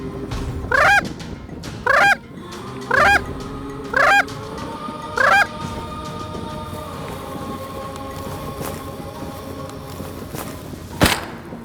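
Emperor geese honk outdoors during a hunt at Cold Bay, Alaska: six loud, nasal calls in an even rhythm, then a single sharp crack near the end over steady wind.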